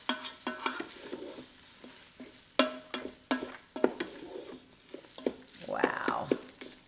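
A spoon stirs grits, multicolored quinoa and chorizo sausage in a pot, making a close, irregular run of soft scrapes and sharp clinks against the metal. A brief frying-like hiss swells near the end.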